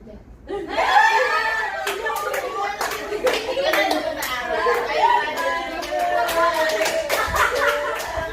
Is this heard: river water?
no